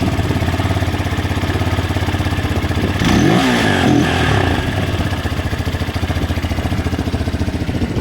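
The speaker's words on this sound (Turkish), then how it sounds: "Motoru çalıştırdık. Saat gibi çalışıyor." A Mondial Drift 200cc fuel-injected motorcycle engine with an upgrade kit, started cold, idles loud and close with a steady rapid pulsing throb and a brief swell of revving midway.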